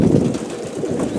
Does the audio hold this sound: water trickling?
no